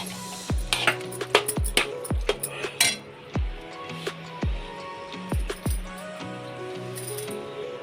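A spoon clinks and scrapes repeatedly against a pan while stirring thick, milky carrot halwa, giving irregular sharp metallic taps and soft squishing close up.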